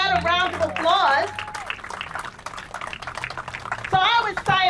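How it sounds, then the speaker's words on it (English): A crowd applauds at an outdoor Portuguese flag raising ceremony in Roselle. A few seconds of scattered clapping sit between stretches of a speaker's amplified voice, which returns near the end. "Let's give that a round of applause."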